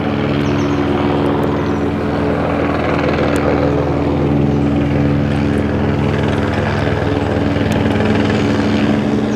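A helicopter circles directly overhead, its steady rotor and engine drone loud and continuous throughout, with no voices.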